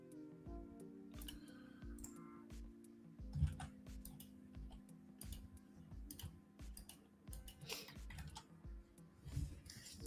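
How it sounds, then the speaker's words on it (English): Typing on a loud computer keyboard in a live futures-trading stream, irregular bursts of sharp clicky keystrokes, close and quiet, with a low hum underneath. "The loud keyboards."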